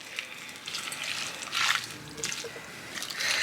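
Boiling water trickles and splashes as it is poured over seasoned meal-prep food, a steady liquid pour with brief louder surges.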